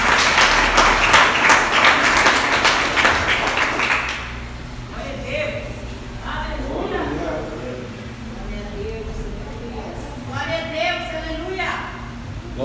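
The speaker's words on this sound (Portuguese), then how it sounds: "Aplaude o Senhor mais uma vez, Senhor Jesus." A church congregation applauding during a worship service, loud sustained clapping for the first few seconds that fades out as someone speaks over the quieter hall.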